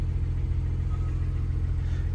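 A 2019 Porsche 911 Targa 4S with the Sport exhaust idles nearby in a low, steady rumble with an even engine throb and no revving or talk.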